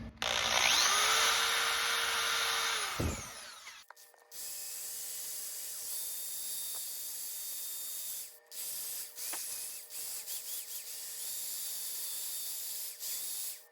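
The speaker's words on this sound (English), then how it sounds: "And wire wheel the corrosion off of this thing." A wire wheel scrubs corrosion off a 4WD disconnect part from a Chevy Trailblazer, giving a loud, rough, whirring grind for about three seconds before it cuts out, followed by quieter workshop noise.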